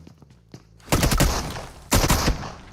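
Automatic weapon fire in the battle royale game PUBG Mobile during a competitive esports league match, heard as two loud, dense bursts of rapid shots, with faint footsteps and quieter taps before them.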